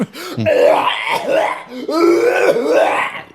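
A person coughs and hacks harshly in two long, raspy bursts, loud and close, with throaty groaning tones.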